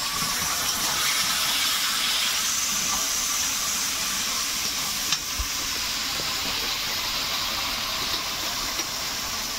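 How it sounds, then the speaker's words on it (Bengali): Whole spices, onion, garlic, ginger, green chilli and cashew paste fry in a pan with a steady, even sizzling hiss that goes on unbroken, close by and moderately loud. "এইটা একটু ভালো করে ভেজে নিয়ে এবারে এর মধ্যে সেই যে পেঁয়াজ, রসুন, আদা, কাঁচা লঙ্কা, কাজু বাটা সব একসঙ্গে দিয়ে দিলাম"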